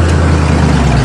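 Steady, loud engine and exhaust drone from an old Oldsmobile with a modified exhaust, a continuous low rumble idling without change.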